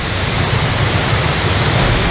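A waterfall thundering as a steady, dense roar of falling water, loud and close, unbroken for the whole stretch.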